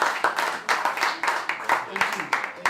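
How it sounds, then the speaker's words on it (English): Rhythmic clapping at a regional business awards ceremony in Cape Town, a small group of hands beating in a fairly even pulse, moderately close and loud. "Another round of applause"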